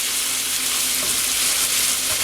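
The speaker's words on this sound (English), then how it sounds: "That butter makes it just amazing. I'm trying to get it all browned up in there." Butter-coated keto chaffle batter browns inside a waffle maker, giving a steady, close, even sizzle with a faint low hum, no voices.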